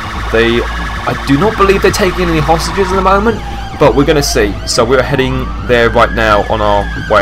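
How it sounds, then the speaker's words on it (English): Police sirens from GTA 5 with the LSPDFR mod, wailing and yelping over a steady engine hum, loud and continuous beneath someone talking. "you can hear those sirens, and there's like lots of vehicles on scene right now"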